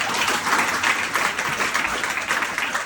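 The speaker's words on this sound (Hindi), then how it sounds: "इसलिए वो टॉप पे एक बार और तालियां बनती हैं" An audience at a mindset training program in Agra breaks into loud, sustained applause, many hands clapping together in a thick, continuous roar throughout.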